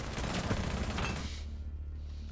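Rapid gunfire from Rainbow Six Siege, a dense burst of shots in quick succession up close for about a second and a half, then cutting off to a low background hum.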